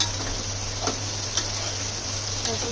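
Smoky chicken pieces fry in oil on a hot tawa over a turned-up gas flame, a continuous close sizzle with a few faint clicks and no voices.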